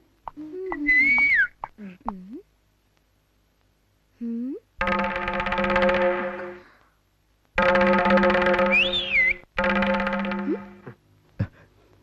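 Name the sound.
old man whistling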